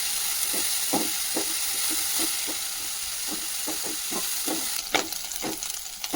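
Dried shrimp frying in hot oil in a pan, giving a steady, loud sizzle with faint stirring clicks and scrapes running through it, and no voices.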